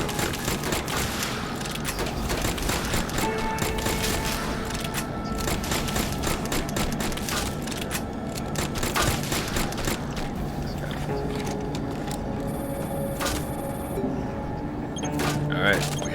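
Steady gunfire in a zombie wave-shooter VR game, dense rapid bursts running throughout over a busy game backdrop, with a voice talking underneath.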